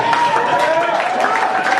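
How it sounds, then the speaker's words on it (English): An audience at a pub retirement roast for Paul breaks into sustained clapping and cheering, a dense crowd wash of hands with mixed voices throughout, loud and close. "clap for Paul, I think we need to do it again."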